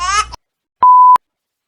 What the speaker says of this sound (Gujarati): આ ફોન આવી ગયો.